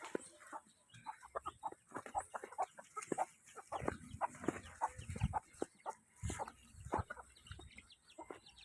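Chickens clucking at feeding time on a Filipino farm, a busy stream of short close clucks and calls in irregular bursts, with no talk.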